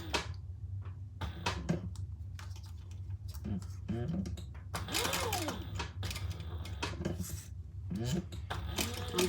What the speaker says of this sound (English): I'm just doing an 1/8 inch top stitch